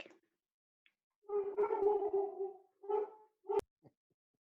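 A pet dog howls during an online subcommittee meeting: a long drawn-out harmonic howl followed by two shorter howls and a brief yelp, close to the microphone, with no talking over it.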